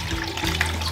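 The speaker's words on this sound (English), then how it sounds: "I'm just going to strain everything now into this plastic jug." Sorrel drink pours through a strainer into a plastic jug, a close, steady trickling gush with a low hum behind it, brief and unbroken, no speech.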